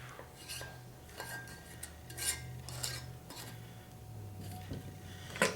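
Two-piece metal band being screwed finger tight onto a glass canning jar of bone broth, soft scraping and light metallic clinks in short bursts, close and fairly quiet, no talk.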